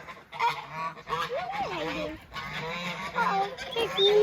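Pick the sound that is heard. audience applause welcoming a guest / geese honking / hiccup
geese honking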